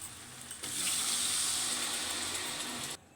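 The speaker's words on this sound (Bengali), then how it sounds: "এবার আমি জল দিয়ে দেব।" Water pours steadily into a pot of spiced chicken for Arabian chicken kabsa, a loud, continuous close gush that starts abruptly, holds for about two seconds and stops sharply.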